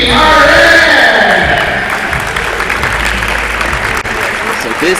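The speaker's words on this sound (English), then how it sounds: "So these two teams will be greeted with thunderous applause." Applause greets two basketball teams at a national under-17 junior championship game in an indoor arena, a loud dense crowd clapping that swells at first and then holds steady, with an announcer's voice heard over it.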